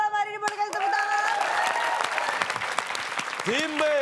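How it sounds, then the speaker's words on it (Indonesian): Studio audience applauds a winning quiz team on an Indonesian TV quiz show, a steady clapping wash over about four seconds while a host speaks over it. "Boleh kasih tepuk tangan."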